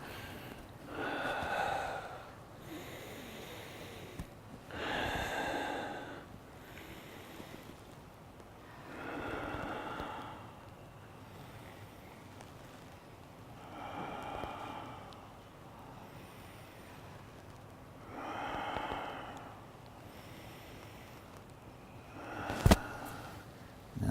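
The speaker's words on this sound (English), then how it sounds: "same breathing in through the nose, out through the mouth" Slow, deep breaths drawn in through the nose and released through the mouth during a guided stretching session, with about five long, soft swells of air spread evenly and heard close up.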